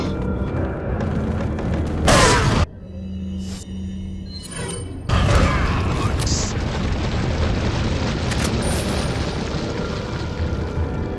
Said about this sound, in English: Guess it's gonna be grenade then.